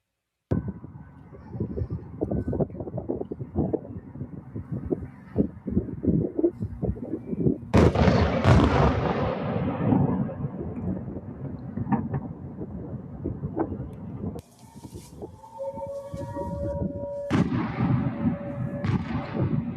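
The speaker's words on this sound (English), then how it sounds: "of the strikes coming down and hitting the city skyline." Missile strikes hitting a city in Ukraine, heavy booming blasts and rumbling impacts with a sharp loud explosion about midway and another near the end, echoing across the urban area.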